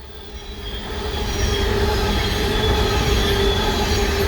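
A train rushes past at speed, a loud continuous roar of wheels on rails with a high metallic squeal, growing louder after the first second.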